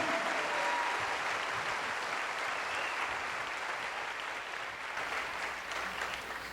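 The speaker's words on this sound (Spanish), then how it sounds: "dale un aplauso" A church congregation claps together during a sermon, a continuous, evenly sustained wash of applause filling the room, with no voices over it.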